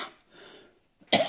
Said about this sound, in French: il se peut que je tousse